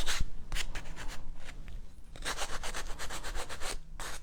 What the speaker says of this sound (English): I'm going to kind of sand back a little bit.